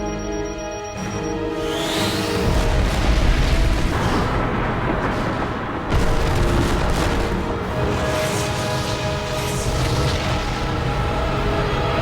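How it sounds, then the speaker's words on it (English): A massive sci-fi explosion destroys the Earth vessel in Stargate SG-1. It comes as a loud, sustained rumbling boom with a second surge partway through, rolling on densely for many seconds. "The Earth vessel has been destroyed."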